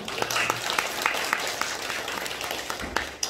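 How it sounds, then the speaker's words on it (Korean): Church congregation at a Sunday worship service applauds to congratulate a couple on a new baby: a modest, scattered patter of claps of moderate loudness, with individual hand claps standing out over the room. "우리 박수로 한번 축하할까요?"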